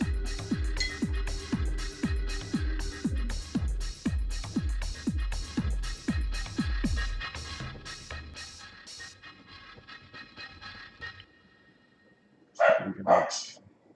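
A dog barks repeatedly in a steady, loud series of sharp woofs that later thins out, followed by a brief louder bark or yelp near the end; no talk is heard.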